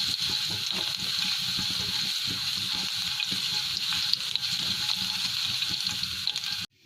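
Garlic fries in about three tablespoons of hot oil in a pan, giving a dense, even sizzle that holds close and loud throughout before cutting off abruptly at the very end.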